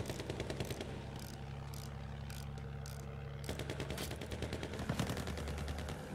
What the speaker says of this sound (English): Now they're shooting me back.